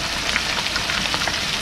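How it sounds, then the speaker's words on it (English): Shrimps deep fry in hot oil, a loud dense bubbling crackle that stays constant and close for the whole short stretch, with no voices. "Lay all the shrimps on the nest, we're gonna deep fry it."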